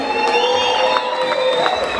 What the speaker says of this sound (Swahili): Pigia Yesu makofi na usimame ushangilie Yesu.